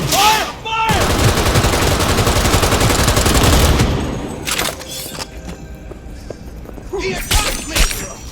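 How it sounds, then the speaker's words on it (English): Dense, loud automatic gunfire rattles in a Cyberpunk 2077 firefight, a sustained burst of rapid shots followed by scattered impacts, crashes and a few isolated shots. "All units report. Opening fire."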